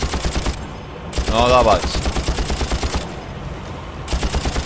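Automatic gunfire from a machine gun in the Far Cry video game rattles in repeated bursts, loud and close, with someone speaking briefly over the shooting.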